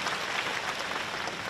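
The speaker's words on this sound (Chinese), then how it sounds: "鼓掌" A short burst of continuous audience applause in a large hall during a live question-and-answer gathering, dense and even throughout with no voices standing out.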